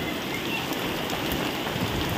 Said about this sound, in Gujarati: જો કરા પડે ઓલા પડે